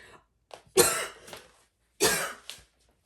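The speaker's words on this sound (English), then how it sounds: "as I'm dying from coughing" A person coughs twice, harsh and close, each cough a short burst followed by a smaller trailing hack.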